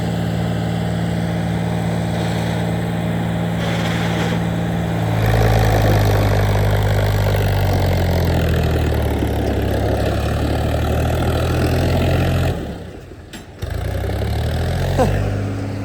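A tractor engine drones loudly and close, straining steadily at a low throb while climbing a canal bridge slope, swelling midway, then dipping abruptly near the end before picking up again.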